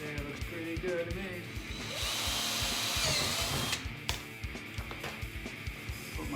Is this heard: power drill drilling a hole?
yes